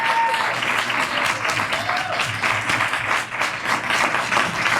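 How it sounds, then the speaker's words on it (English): Sustained applause from a luncheon audience honoring the keynote speaker at a mayor's annual minority and women-owned business luncheon, a dense steady wash of many hands clapping for about five seconds, loud and close throughout. "we have another round of applause for our wonderful keynote speaker, Ms. Jacqueline Camacho-Ruiz."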